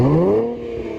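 A Nissan rear-wheel-drive sports car engine revs, its pitch rising and then easing off in a single loud, close burst that settles into a steady drone.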